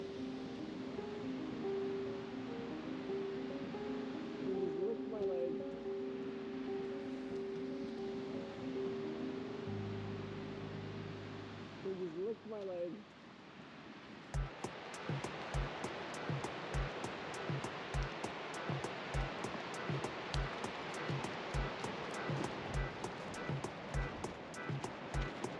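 Surf washing onto a Costa Rican beach at low tide near Hotel Punta Islita, a steady broad wash that later turns into a busier, rhythmic roar with repeated crests, no talking.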